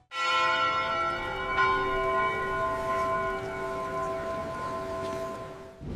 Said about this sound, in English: Bells tolled from steeples across the Union.